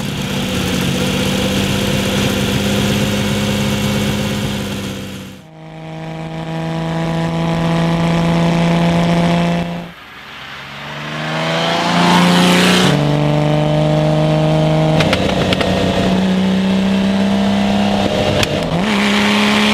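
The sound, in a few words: Lamborghini Miura engine idling and revving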